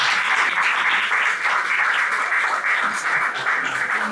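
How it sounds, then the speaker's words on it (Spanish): An audience at a book presentation claps steadily for the authors, a dense, continuous round of applause filling the room at close range without speech. "Un aplauso."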